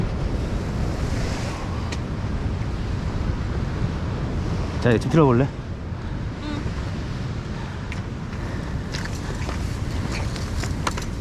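Ocean surf rolls steadily under heavy wind noise, with a person speaking briefly midway.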